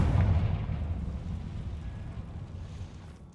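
A Confringo fire spell explodes in Hogwarts Legacy: a deep, heavy boom hits at once, then rumbles down into a fading roar.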